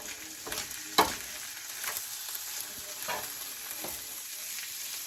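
Chilies are stirred into beef burrito meat frying in a skillet: a soft, constant sizzle punctuated by several scraping stir strokes, one sharp knock near the start, heard fairly quietly with no voices.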